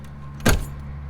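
Keys give one quick, sharp clack and jingle while the camper trailer door is locked, a brief close burst set against a steady low hum.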